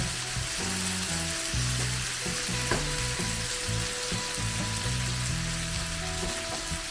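Prawn roast is stirred in a pan as its liquid dries off, giving a dense, even sizzle with a low steady hum beneath it and no one talking.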